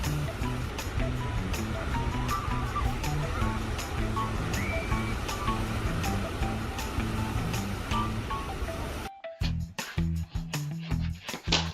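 Ocean waves make a steady, loud roar of surf and rushing water that is broken up near the end by louder, uneven splashing and crashing.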